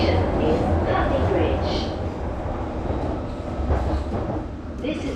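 A London Underground District Line train bound for Wimbledon, near Putney Bridge, fills the carriage with a steady, loud rumble and rattling roar that swells and dips slightly but never stops.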